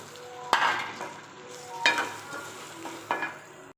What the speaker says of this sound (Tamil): ஒரு அரை ஸ்பூன் மஞ்சத்தூள் இதையும் போட்டு நல்லா வதக்கிக்கலாம்.